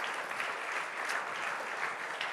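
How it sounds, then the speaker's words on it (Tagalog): A church congregation claps together in sustained, dense applause, a continuous crowd of hands filling the space without a break. "Yung the best na palakpak sa Panginoon."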